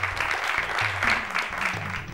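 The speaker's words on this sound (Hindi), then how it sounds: "तालियों से स्वागत कीजिए" A television talent show audience applauding to welcome a judge, a continuous loud clapping crowd over a rhythmic background music beat.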